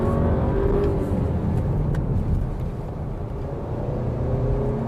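A 2021 Audi Q3 Sportback Quattro climbs a wet hill in a lower gear, its engine droning loud and steady from inside the car with a faint wash of wet road noise underneath.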